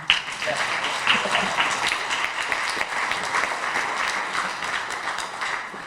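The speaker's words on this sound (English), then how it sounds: "Let's give them another round of applause." A crowd at a film screening and discussion in St Louis claps steadily for about six seconds, a dense and even wash of applause without pause.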